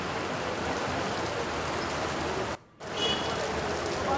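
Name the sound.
heavy rain falling in Virar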